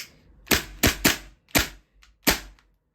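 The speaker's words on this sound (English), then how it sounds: "Very, very loud gun." Tokyo Marui MP7 airsoft gun firing single shots: six sharp, loud cracks at uneven intervals, the fifth faint, close by with no talk.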